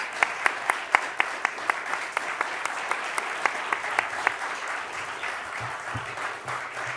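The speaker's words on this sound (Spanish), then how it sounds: "les pido un aplauso para Roberto y Manuel" A lecture audience at an academic tribute event for the writer Roberto Bolaño applauds two guests, with dense, steady clapping and sharp individual claps standing out, easing slightly toward the end.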